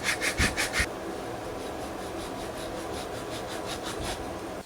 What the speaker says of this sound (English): Now I'm going to cut a groove right down here with a very thin saw blade